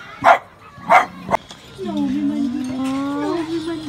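A dog gives two or three sharp, close barks, then lets out a drawn-out, wavering whine that trails off.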